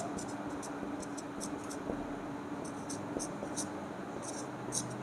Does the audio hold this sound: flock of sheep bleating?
no